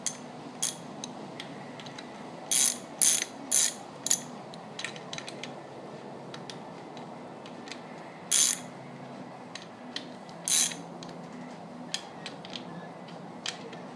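A ratchet tightens bolts on a Perkins 4.108 engine during a rebuild, with short bursts of rapid clicking strokes separated by pauses and scattered small metallic ticks in a quiet space.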